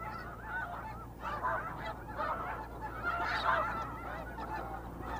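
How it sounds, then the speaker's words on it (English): Geese honk at the Blackwater National Wildlife Refuge, a resting stop for migrating birds, with a continuous overlapping chorus of calls from a flock at moderate distance over a low background rumble. "Blackwater is a crucial resting and feeding stop for thousands of migrating birds"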